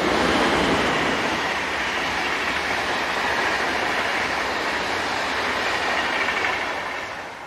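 MRCE electric locomotive 189910 hauls EuroCity EC85, running from Munich toward Bologna and Rimini, past at close range. It makes a steady, loud rumble of wheels and carriages that holds throughout and eases slightly at the end, with no voices.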